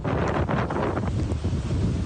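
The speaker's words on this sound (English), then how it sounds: "with gusts of up to 132 kilometres an hour at Cape Leeuwin" Storm winds gusting up to 132 km/h at Cape Leeuwin on the Western Australian coast, with heavy surf pounding the shore. A loud, steady roar of wind buffets the microphone throughout, with crashing water mixed into the rush.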